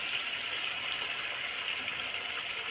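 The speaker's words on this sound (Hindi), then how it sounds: "अब हम इसमें ये बैटर डालते हैं जो हमने दही और बेसन का मिक्सचर बनाया है" Yogurt and gram flour batter pours into a pan of cooked masala for Punjabi kadhi pakora, a steady, even gushing wash that runs unbroken throughout with no talking.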